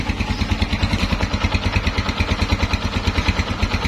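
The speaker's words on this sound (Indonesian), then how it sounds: "Mesinnya istimewa ya." A 225cc motorcycle engine idles close by with a steady, even pulsing putter, smooth and regular throughout.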